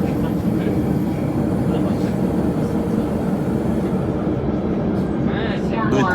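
A metro train at an underground station, Santa Sofia, fills the space with a steady, loud rumble and rush of wheels that holds throughout, with no break or pause.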